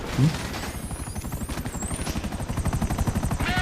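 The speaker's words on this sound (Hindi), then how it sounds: "हेलीकॉप्टर" Helicopter in the video game GTA 5, a steady rapid rotor chop with a low pulsing thump that grows louder over a few seconds, with faint gunfire-like bursts and in-game engine whine mixed in.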